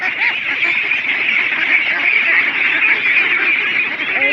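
Dense flock of ducks on a duck farm of about a thousand birds, a continuous loud chorus of overlapping quacks and honks throughout, steady and close with no pauses.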